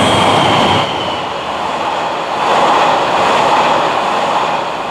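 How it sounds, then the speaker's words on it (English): Seven Stars in Kyushu, a luxury tourist cruise train, rolls past on the Nippo Line in Japan with a loud, sustained rumble of wheels on rail and a faint high squeal, close by and continuous, with no voices. "This is Seven Stars in Kyushu, a classy cruise train for tourists."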